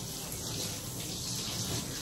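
Warm water, kept around 90 degrees by an inline heater, runs steadily during a Havanese dog's bath, a constant broadband wash of spray with no pauses or talk.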